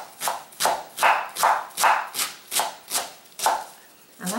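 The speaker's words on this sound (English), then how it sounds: "So I have some curly kale. I'm going to just chop it very," A knife coarsely chopping curly kale on a board, about ten crisp, evenly spaced cuts in a steady rhythm, close and clear with no talk.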